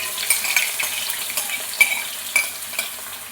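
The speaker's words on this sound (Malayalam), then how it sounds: "അത് നമ്മൾ അരിഞ്ഞ് വെച്ചിരിക്കുന്ന സവോള ഇട്ട് കൊടുക്കാം." Chopped onions frying in hot oil in a pan after mustard seeds have spluttered, a steady close sizzle broken by repeated spoon scrapes and taps as they are stirred.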